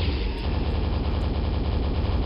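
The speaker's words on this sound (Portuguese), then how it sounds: "a Super Nail Gun dá um tiro muito mais espalhado" The Super Nail Gun in Quake: Spiritworld fires a loud, continuous rapid stream of metallic nail shots, a dense unbroken rattle lasting the whole moment.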